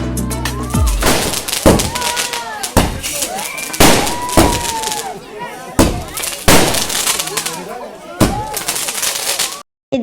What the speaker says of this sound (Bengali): এদিকে এখন বাজি ফাটানো হচ্ছে।